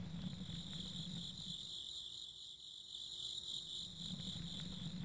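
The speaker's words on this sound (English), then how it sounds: "Why are the crickets so loud?" Loud, steady crickets chirp in a horror video game, a dense insect chorus that fills the whole stretch without pause, with no voices over it.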